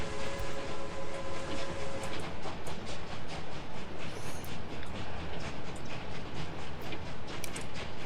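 A steady rhythmic clatter of a train rolling along tracks in the video game Workers and Resources, with a regular clickety-clack beat and a continuous rumbling hum.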